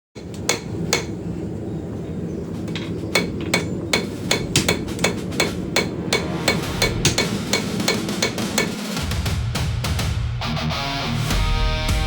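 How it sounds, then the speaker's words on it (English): A hammer beats repeatedly on a hot rail spike being forged into a knife, a loud metallic strike about every half second over steady forge roar, close by, then the blows stop and the roar carries on. "Beating on the metal."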